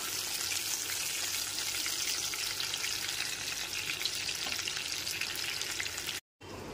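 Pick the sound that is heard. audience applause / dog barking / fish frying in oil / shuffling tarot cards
fish frying in oil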